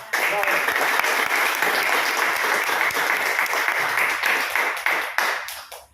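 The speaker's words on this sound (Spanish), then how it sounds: "empezamos con palmas fuertes el compañero sociólogo economista, a quien recibamos con palmas fuertes de cariño" Strong, sustained applause from an audience at a national political forum as a sociologist-economist is welcomed to speak; dense, even clapping throughout, tapering off at the very end.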